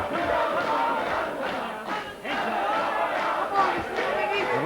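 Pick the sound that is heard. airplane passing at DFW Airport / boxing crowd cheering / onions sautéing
boxing crowd cheering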